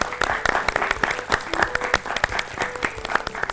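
Studio audience applause on a Hindi children's quiz show, rewarding a correct answer, with dense clapping bursting in steady waves and a voice briefly speaking over it.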